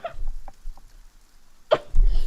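A single sharp sneeze bursts out near the end of a quiet stretch, close and fairly loud, followed by a brief rustle; faint speech fragments come earlier.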